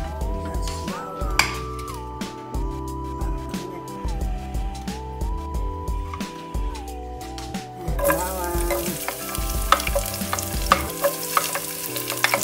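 Garlic and onion sizzle in olive oil with a continuous close frying hiss, a persistent tonal hum running underneath and scattered utensil clinks and stirring scrapes, growing brighter and busier toward the end.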